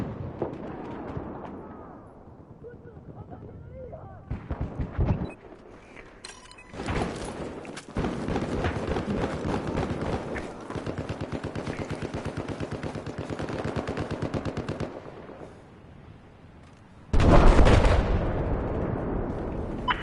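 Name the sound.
gunfire and explosions in Battlefield 4 video game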